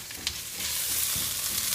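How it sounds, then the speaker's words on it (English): Asian lettuce cup filling sautéing in oil in a pan, an even, close frying hiss with a brief utensil knock near the start. "Sauteing it."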